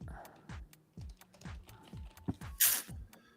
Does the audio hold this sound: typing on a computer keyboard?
yes